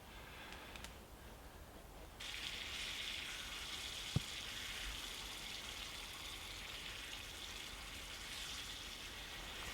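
Rashers of bacon sizzle and crackle steadily in a pan on a small stovetop, a continuous hiss that grows louder partway through, with a single sharp pop near the middle.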